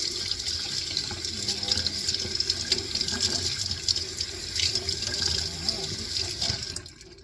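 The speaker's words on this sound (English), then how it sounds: "let's wash and rinse this dry brine salmon that I make" Cold tap water runs steadily over dry-brined wild-caught salmon fillets being rinsed in a sink, a continuous splashing hiss that holds nearly the whole time and then cuts off near the end.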